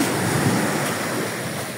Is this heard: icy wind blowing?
yes